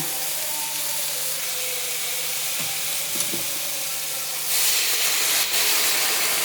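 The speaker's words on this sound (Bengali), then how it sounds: "একটুখানি জল দিয়ে কষিয়ে নেব।" Spice paste frying in a pan with a little water added, a steady close sizzle that swells into a louder hissing burst of steam near the end, with a few faint scrapes in between.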